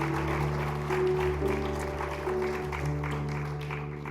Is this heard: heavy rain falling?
no